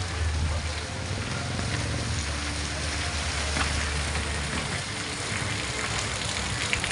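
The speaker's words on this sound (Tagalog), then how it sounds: "Hanggang ngayon po ay malakas pa ang ulan" Heavy typhoon rain pouring down, a steady dense hiss with a low rumble underneath, continuous throughout at a constant loudness.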